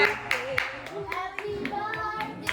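Several people clap at a child's third birthday cake-cutting, sparse uneven claps repeating through the moment, close by and mixed with talking voices.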